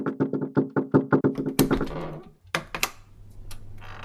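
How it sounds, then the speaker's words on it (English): Knocking on a hotel room door in Seville, a quick run of about a dozen sharp raps in rhythmic bursts, close and clear, followed by a few thumps and quiet room noise. "Somebody's knocking on the door."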